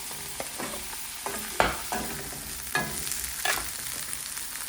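Onion, garlic, tomato and mushroom sizzling in a hot pan, a steady frying hiss broken by several sharp scrapes and clacks of a spoon stirring the vegetables, with no voices.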